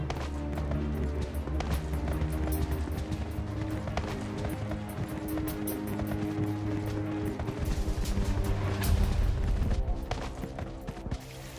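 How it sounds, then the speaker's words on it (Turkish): Running footsteps in PUBG on the Sanhok map, steady rapid steps over a dense, loud game soundscape with music-like tones and scattered gunfire-like cracks throughout. "Ayak sesleri var."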